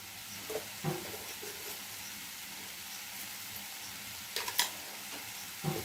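Mashed potatoes being sautéed in spice paste for vada pav, giving a soft, steady sizzle in the pan broken by a few brief scraping stirs, close but quiet, with no talking.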